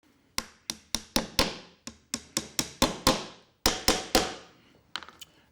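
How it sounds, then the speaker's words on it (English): A glued wooden dowel being driven into a hole with a series of sharp, closely spaced strikes, about a dozen hits in bursts with brief ringing decay, close and fairly loud with no talk. "driving that in the first part of the hole"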